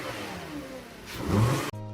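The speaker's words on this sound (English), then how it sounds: "I love the sweet spool up sound that an intake makes" A car fitted with an aftermarket air intake revs up, the engine note rising and swelling with an intake spool-up whoosh before cutting to a steady idle-like hum.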